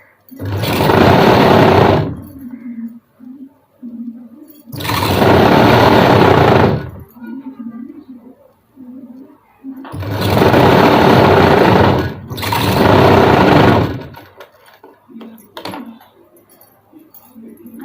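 A sewing machine stitches a blouse in four loud, sustained bursts of about two seconds each, separated by short pauses with faint handling noise.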